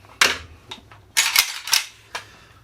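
A Gen 3 PMAG magazine going into an FN FNC 5.56 rifle, heard as a few sharp plastic-on-metal clacks and a firm snap up close, with a short scrape between the knocks.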